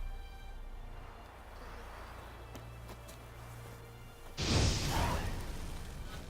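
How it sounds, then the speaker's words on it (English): The Igni fire sign is cast in The Witcher 3: a sudden loud, broad fiery whoosh bursts in after a stretch of low game ambience, then fades gradually. "Now for a shot of Igni."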